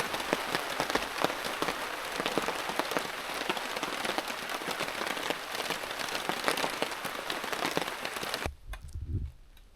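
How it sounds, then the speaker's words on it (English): Steady rain pours down at a canoe campsite, a dense, even hiss of drops striking surfaces nearby that continues for several seconds before suddenly cutting out, leaving a soft low thump. "Yep, still raining."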